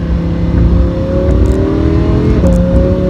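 A Lamborghini Huracan engine pulls hard under acceleration while driving, a loud, continuous rising roar with a brief shift dip near the end, heard up close from inside the car with no talking.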